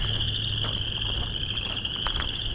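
Frogs croaking in a chorus near a lake beside a trail, dense steady calling with a high insect-like trill running throughout, loud and close, no voices.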